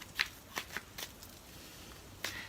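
Tarot cards shuffled and drawn by hand, heard as a few quick papery riffles and flicks spaced across a quiet stretch, soft and close with no talking.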